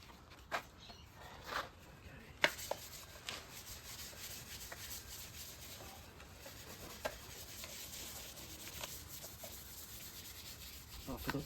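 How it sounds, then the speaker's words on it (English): Hand sanding of a painted surface before repainting, with steady scratchy rubbing strokes running throughout at a moderate level and a few sharper scrapes and knocks standing out. "So just remember, sand, sand, sand, sand, sand."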